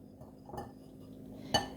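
A utensil stirs pancake dry ingredients in a bowl, making soft, quiet scraping with a couple of light clinks against the bowl. The sound is close and faint, and nobody speaks.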